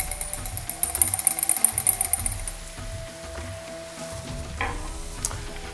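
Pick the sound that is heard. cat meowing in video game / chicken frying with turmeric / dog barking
chicken frying with turmeric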